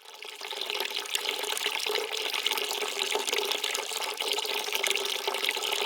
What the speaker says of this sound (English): You hear the water getting sucked in. So 50 gallons going in.